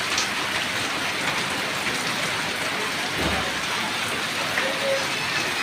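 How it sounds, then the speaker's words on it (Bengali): Steady rain falling outdoors around three in the afternoon, a dense, even hiss of drops on surfaces that continues unbroken throughout. "অসাধারণ বৃষ্টি হচ্ছে"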